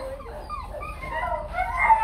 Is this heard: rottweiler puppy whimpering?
yes